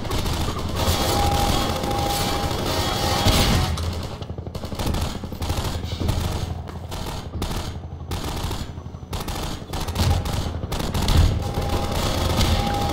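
Rapid, continuous gunfire in Half-Life 2: Episode Two rattles loudly throughout, dense bursts of automatic shots with occasional heavier booms, no voices.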